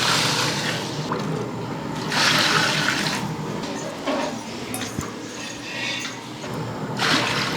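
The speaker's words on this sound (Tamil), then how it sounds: "இப்போ தண்ணி சேர்த்துருவோம்." Water pours in a steady, loud splashing stream into a cooking pot while vegetable rice is being made for about thirty people, surging in a couple of heavier bursts, close up with no talking.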